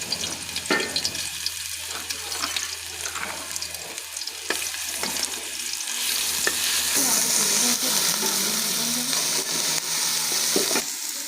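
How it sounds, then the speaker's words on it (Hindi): Garlic ginger paste sizzling and frying in hot ghee, steady bright hiss growing louder, with occasional scraping and stirring sounds in the pan. "पेस्ट को हम 30 से 40 सेकंड तक करेंगे हम इसे अच्छे से फ्राई"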